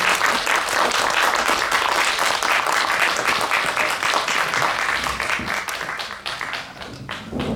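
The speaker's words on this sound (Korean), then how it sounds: "박수를 해주시겠습니다" An audience at a film press screening and press conference applauds, a loud dense patter of many hands that holds steady and then thins slightly toward the end.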